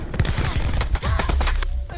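Automatic gunfire in the video game Black Ops 4, loud and close, with dense rapid bursts of shots running nearly without pause.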